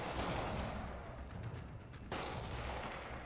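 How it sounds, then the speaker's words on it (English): Distant gunfire echoing across a city in Marvel's Spider-Man video game, a faint rattle of shots buried in a steady wash of wind and urban ambience, with one louder crack partway through. "Oh, I hear gunshots."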